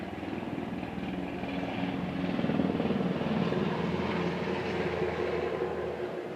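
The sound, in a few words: helicopter flying overhead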